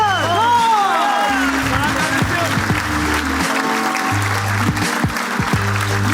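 Studio audience applauding on an Armenian comedy TV show, a steady, dense clapping that fills the clip, with a host's voice talking over it.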